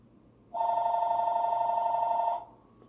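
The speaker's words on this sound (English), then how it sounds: "I'll just wait for it to finish ringing and then I can continue talking." A telephone rings once with a single sustained electronic tone lasting nearly two seconds, clear and fairly close against a quiet room hum.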